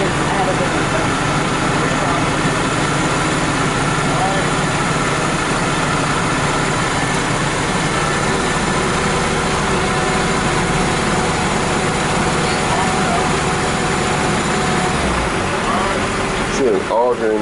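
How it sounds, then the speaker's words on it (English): An asphalt paving machine laying asphalt on a residential street, its engine droning loudly and steadily throughout at close range, with the auger working and a person talking over the noise. "See an auger in the back right there filling up the asphalt as it puts it down."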